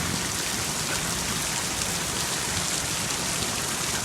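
Heavy rain pours down steadily amid extremely high winds, a dense, continuous hiss of drops hitting surfaces close by, with no voices.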